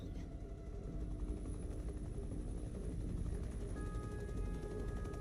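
A police helicopter from inFAMOUS: First Light thrums with a steady, dense rotor chop, loud and continuous throughout with no pauses, under a faint whining tone.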